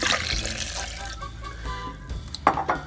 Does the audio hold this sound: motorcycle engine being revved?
no